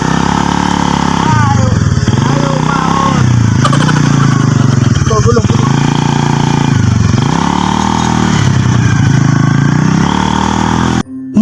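A motor vehicle engine strains uphill pulling a load on a road trip at Mt. Samat, Bataan, droning loud and close with rising and falling revs across the whole stretch, cutting off abruptly at the end.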